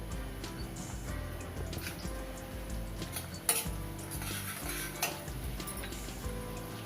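Whole spices (cumin, black cardamom, cinnamon, peppercorns, bay leaves) sautéing in hot oil, a steady sizzle broken by sharp metallic clinks of a spoon against the pan.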